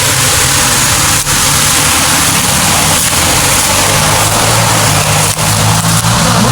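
A motorcycle engine drones loud and close on a road, a constant roaring wash of engine and wind noise with no pause or clear rise and fall.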